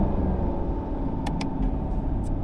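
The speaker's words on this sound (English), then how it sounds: "this car does have a crazy stock burble" A 2022 Chevrolet Camaro LT1's engine rumbles steadily close by at around 3000 RPM, a deep continuous stock exhaust burble with a few brief crackles and pops.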